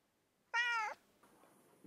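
A cat gives a single clear, fairly close meow, followed by quiet room sound.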